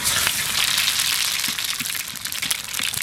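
Cumin seeds and bay leaves frying in hot mustard oil in a wok give a close, steady sizzle with scattered sharp pops and crackles, alone and without talk.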